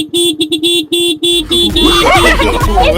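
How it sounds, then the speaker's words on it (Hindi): A scooter horn beeps in a quick series of short honks, close and loud, followed by a burst of jumbled noisy voices. "इसका हॉर्न सुनने के लिए वीडियो को लाइक करो"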